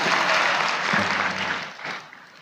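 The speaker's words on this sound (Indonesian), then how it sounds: "Oh, tepuk tangan dia." Audience at a live Islamic religious lecture by Ustadz Adi Hidayat bursts into dense, sustained applause that stays loud, then thins and tapers away near the end.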